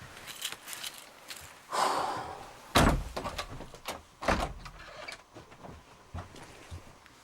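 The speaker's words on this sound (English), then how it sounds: "I just had the door physically come out at me" A door at a reputedly haunted old inn swings open and bangs on its own, with heavy thuds and creaks among rustling and breathy gasps nearby.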